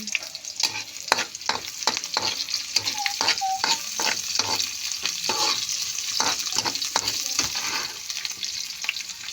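Onions for adobong gulay sauté in a pan, with a steady close sizzle broken by frequent sharp scrapes and clinks of a spatula stirring.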